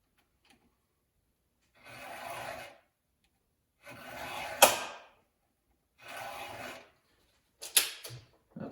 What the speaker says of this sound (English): I'll just sharpen that one till the nick's out.